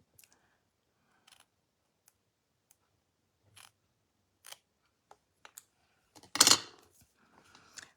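Scissors cutting paper for card stamping, sparse soft snips and clicks spread out over several seconds, with one louder crisp rustling cut near the end, all close and quiet.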